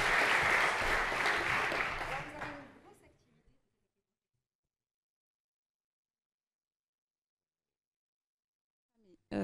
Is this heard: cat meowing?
no